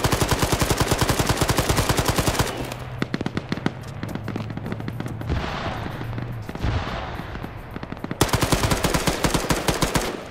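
Sustained automatic gunfire from a player-versus-player shooter match, loud rapid bursts opening and closing the stretch, with a steadier, denser volley of shots and a low droning hum running beneath it in the middle.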